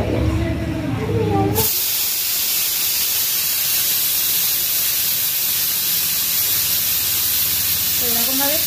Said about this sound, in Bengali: এরকম ভাবে পরপর হচ্ছে এখনো 5টা সিটি পড়বে, তবে এই একটা সিটি উঠলো।